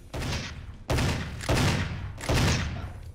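Gunfire in the video game GoldenEye: Source comes as three loud, dense bursts of rapid shots with brief gaps between them.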